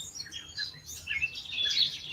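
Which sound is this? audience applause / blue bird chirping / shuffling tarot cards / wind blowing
blue bird chirping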